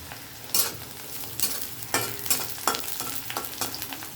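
Slit green chillies and lightly fried onions frying in oil, stirred with a utensil: close scraping strokes land every half second or so over a continuous sizzle.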